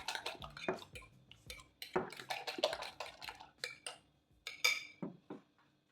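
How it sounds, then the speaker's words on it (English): Seasoned egg mixture being whisked in a bowl, with a run of quick rhythmic clinks and taps of utensil against the bowl, close and fairly quiet. "And I am now going to mix it."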